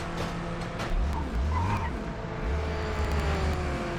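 A race car in Project Motor Racing slides and spins out across grass, giving a loud, continuous engine drone with scraping and skidding tones that surge and fade over about four seconds.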